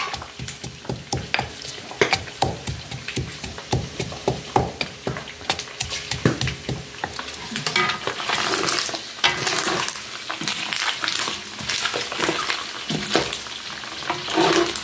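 Garlic fries for rice in a pan on a wood-fired stove. Loud, close sizzling and crackling runs throughout, broken by clanks and scraping as it is stirred, with splashy bursts of frying.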